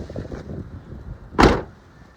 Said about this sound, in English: Pop the hood.